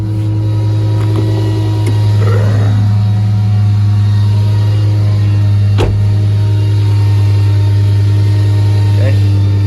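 A Ford bucket truck idles high with its PTO engaged, giving a loud, steady, droning engine hum with no change in pitch, while faint muffled voices come through in the background.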